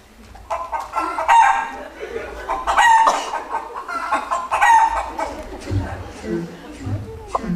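A performer voices the giant's golden hen in a Jack and the Beanstalk stage pantomime, imitating a hen with a run of loud clucks and crow-like squawks over several seconds, with stage noise around.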